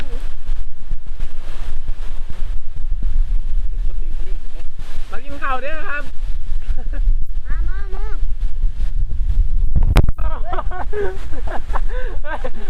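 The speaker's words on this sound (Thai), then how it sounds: "กินกลางพายุนะครับตอนนี้ พายุเข่าเนาะ ลมแรง" Strong storm wind roars across an open rice field in a steady, loud rush that buffets the microphone, while people talk over it throughout.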